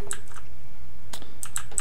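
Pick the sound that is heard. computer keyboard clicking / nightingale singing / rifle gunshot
computer keyboard clicking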